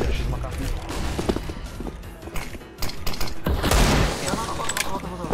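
Gunfire in the tactical shooter game CS:GO, with loud, dense bursts of rapid shots crackling throughout and intensifying near the end, while players talk over the action.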